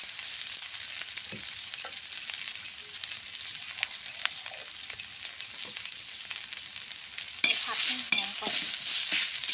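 Lemongrass and garlic stir-frying in a pan as the base for a Thai beef curry, a steady close sizzle with scattered stirring scrapes throughout, growing a little louder and busier near the end.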